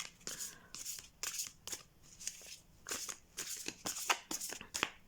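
Edgar Allan Poe tarot cards are shuffled by hand in a series of soft, quick riffling bursts, several separate flutters and slaps repeating at close range in a quiet room.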